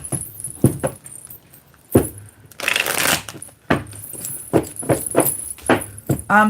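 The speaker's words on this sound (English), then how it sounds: "Let's give this deck a good shuffle." A deck of reading cards being shuffled by hand: several quick papery riffles and slides, with one longer, denser burst of shuffling in the middle, close and fairly loud.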